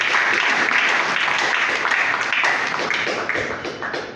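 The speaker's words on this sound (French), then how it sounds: "Si toute la salle peut applaudir le comité de gestion de l'établissement." Audience clapping in a hall, loud and dense with individual claps audible, holding steady before gradually thinning out toward the end.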